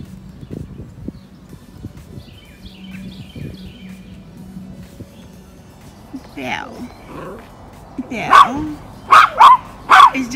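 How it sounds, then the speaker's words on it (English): An excited guard dog gives a few quick, loud yips and barks near the end, after a stretch of quiet household murmur and faint talk in the background. "You have your guard dog watching over you."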